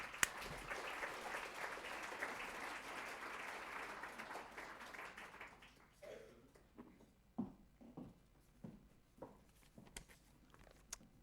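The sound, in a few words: audience applause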